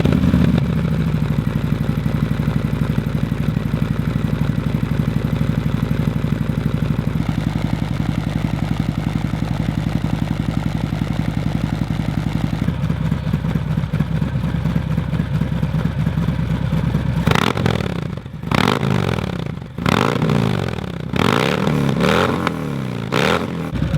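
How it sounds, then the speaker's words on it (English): A Harley-Davidson FXDR motorcycle with an aftermarket exhaust system idling with a deep, rumbling pulse, then shifting tone before a series of sharp throttle blips and revs toward the end, loud and close. "find out what this beautiful exhaust system sounds like"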